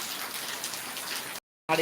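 Rain falling on standing floodwater outside a house, a soft steady hiss of drops that cuts out briefly near the end before returning, with someone talking over it.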